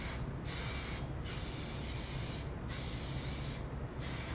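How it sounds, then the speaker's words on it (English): Cooking spray hisses steadily from an aerosol can into a Bundt pan in several short bursts with brief pauses, close and fairly loud. "I have been using this spray for a long time with my Bundt pans"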